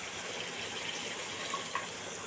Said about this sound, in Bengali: তেল তেল ছেড়ে দিয়েছে, গরম জলটা একটু দিয়ে দেবো।